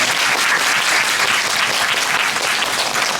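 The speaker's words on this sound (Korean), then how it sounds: "박수 한 번만 부탁드립니다" A theatre audience at a stage greeting after a musical performance applauds the show's producer, a loud, dense, continuous burst of clapping throughout.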